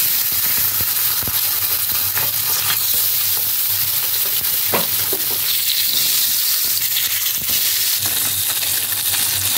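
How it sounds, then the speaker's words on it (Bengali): Flower-shaped capsicum slices fry one by one in an oiled pan, giving a loud, continuous sizzle dotted with small pops and light utensil clicks. "এবার আমি একটা একটা করে ভেজে নেব।"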